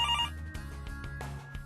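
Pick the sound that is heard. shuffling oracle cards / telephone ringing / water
telephone ringing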